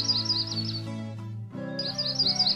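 A small bird chirps and twitters in bright, rapid, repeated calls while feeding its chicks, with a brief pause midway before the chirping resumes, loud and close.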